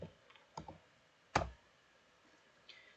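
A few sparse computer keyboard and mouse clicks, close and fairly quiet, with one sharper press standing out among soft taps and gaps of near silence.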